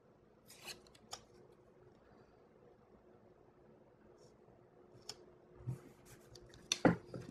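Scissors cutting paper for a planner, a few sparse close snips and rustles with quiet gaps between, the sharpest cuts clustered near the end.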